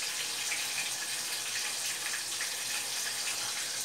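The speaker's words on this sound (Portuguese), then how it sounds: "agora eu vou colocar a água" Steady stream of water poured into a cooking pot in a home kitchen, a continuous close splashing rush with no pauses.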